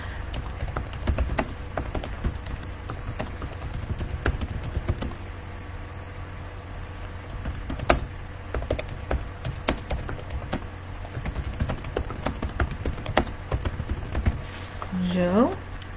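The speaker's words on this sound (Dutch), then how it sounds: "Even wat typen, dames en heren." Typing on a computer keyboard, steady clusters of close, light key clicks running throughout with brief pauses, and faint background hum.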